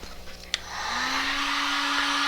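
A small click, then a hair dryer whirs up and keeps blowing steadily and loudly nearby with a constant hum, drying wax colouring on a craft piece.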